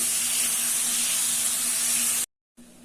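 Chopped tomatoes sautéing in a pan for a toor dal vada curry, giving a steady, close hissing sizzle that breaks off briefly near the end before resuming.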